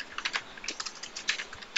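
Fingers tap out quick, light clicks on a computer keyboard, a close, uneven patter of keystrokes in small bursts with no talk.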